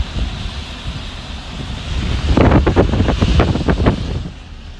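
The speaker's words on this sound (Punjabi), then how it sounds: "ਦੇਖੋ ਦਰਿਆ ਪੂਰਾ ਨੱਕੋ ਨੱਕ ਪਾਣੀ ਦੇਖੋ ਕਿੰਨਾ ਤੇਜ਼ ਆ" A flooded river in Punjab runs high and fast after a day of heavy rain, a loud continuous rush of water mixed with wind buffeting the microphone and a stretch of rougher surging in the middle.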